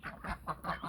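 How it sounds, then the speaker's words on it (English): Pet ducks in a backyard garden quack in a quick series of raspy calls, close and moderately loud, with no talk over them. "Hello, my ducks."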